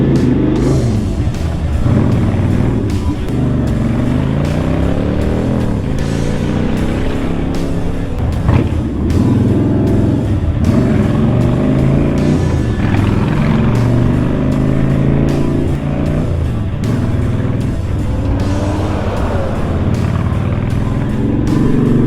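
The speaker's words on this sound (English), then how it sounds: "for those of you who don't live in New York City and don't commute in traffic," A car driving through New York City commuter traffic, with a continuous loud engine and road rumble that rises and falls as it shifts and moves along, and no talk over it.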